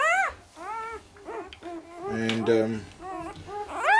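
A Bully Kutta puppy whimpers and whines in repeated high, rising cries, close and fairly loud, with a person speaking briefly.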